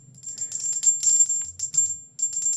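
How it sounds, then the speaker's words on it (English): Synthesized bullet shells from Tsugi DSP Motion, a rapid cluster of bright metallic tinkling clinks scattering like falling casings, loud and close, pausing briefly before a final burst. "Bullet shells, this is nice."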